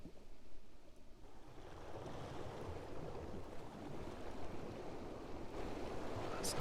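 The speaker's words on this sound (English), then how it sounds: "Punta Allen Beach." Waves washing onto Punta Allen Beach, a field recording used as a synth pad preset: a soft, steady surf hiss with gentle swells, fairly faint and with no voices.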